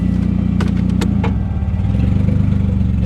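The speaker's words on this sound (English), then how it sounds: "Little exhaust leak, which sounds pretty good." A NISMO Nissan Frontier truck engine idles close by with a small exhaust leak, giving a steady low rumble with a faint ticking pulse. No one talks.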